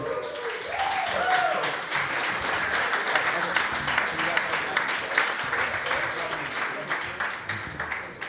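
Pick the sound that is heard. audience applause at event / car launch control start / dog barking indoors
audience applause at event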